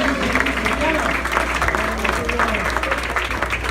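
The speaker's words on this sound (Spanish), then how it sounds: "Fuertes los aplausos, que se escuchen." Crowd at a live quinceañera party in Stamford, Connecticut applauds, a continuous patter of clapping with voices and background chatter mixed in.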